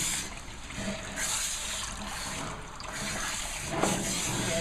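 A tap runs steadily as water warms up for bathing a dog, a continuous close rush and trickle with no talk.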